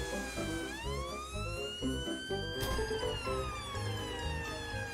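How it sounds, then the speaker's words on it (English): A loud wailing cartoon ambulance siren rises and falls continuously, close and steady, with a rumbling engine and clattering noises underneath. "Peppa and Dr. Brown Bear quickly jump into the ambulance and drive off to the park."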